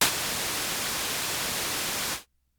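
Broadband white noise from a Roland JD-Xi synthesizer, a steady, even hiss across the whole range that holds for about two seconds and then cuts off abruptly into silence.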